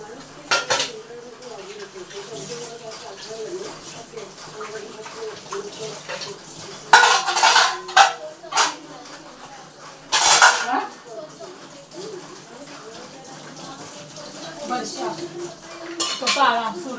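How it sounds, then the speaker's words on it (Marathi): Dishes, pots and steel utensils being washed by hand in a home kitchen during cooking, with scattered clinks and sharp clattering bursts over a steady running-water hiss. "स्वयंपाक करताना मी हातोहात भांडी सर्व धुवून घेत असते"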